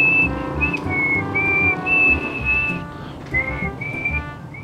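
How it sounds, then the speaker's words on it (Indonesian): A person whistles a bright, wavering tune in several sustained phrases with a short break near the middle, loud and close over a busy background of room noise and faint chatter. "Sing shot alias siul."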